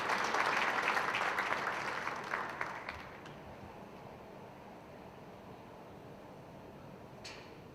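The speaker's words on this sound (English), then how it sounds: "Let's please give a round of applause to our 8 contestants from Mr. Vineland 2022, as well as their lovely escorts." An audience at the Mr. Vineland 2022 pageant applauds its eight contestants and their escorts, a moderately loud burst of clapping that tapers off after about three seconds into quiet room noise, with a faint clap near the end.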